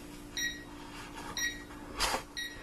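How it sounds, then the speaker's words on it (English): A ZHPUAT JFE0135 digital alarm clock sounds its alarm: short electronic beeps repeating about once a second, moderately faint against a quiet room hum. "so that's the alarm going off"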